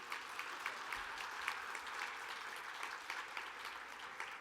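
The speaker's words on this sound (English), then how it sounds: "So give yourselves a round of applause for waking up this morning." An audience at a bilingual parents summit's opening session applauds, a soft, steady patter of clapping with distinct claps spread through the room, heard from a distance and alone.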